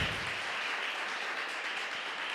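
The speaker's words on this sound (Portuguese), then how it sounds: "Vocês podem aplaudir o Senhor?" Church congregation applause during a sermon: faint, distant, continuous clapping from many hands, an even hiss-like patter with no speech over it.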